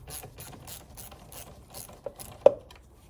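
A ratchet with a 10 mm socket loosening the negative battery terminal on a 2012 Mini Countryman, with a rapid run of soft ticking clicks followed by a couple of sharper knocks, close and fairly quiet.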